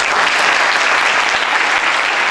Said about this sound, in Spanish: las aportaciones del maestro Aceves Arce, con un fuerte aplauso, por favor.